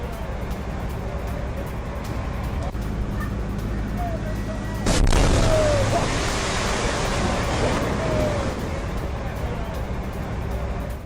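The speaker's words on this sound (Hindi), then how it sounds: "जब इसको डिफ्यूज करने की कोशिश की गई तभी होता है एक बड़ा धमाका" A rocket explodes during a defusal attempt: a sudden broadband blast erupts midway through steady outdoor noise and distant voices, followed by a few seconds of rumbling, roaring aftermath.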